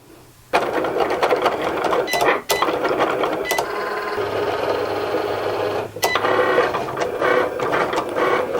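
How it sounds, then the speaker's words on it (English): Cricut cutting machine slicing an infusible ink transfer sheet on a mat, a close, steady mechanical whir and buzz with a few sharp clicks and brief pauses as the carriage moves. "So the Cricut has cut all the internal details and now it's going around this outside edge."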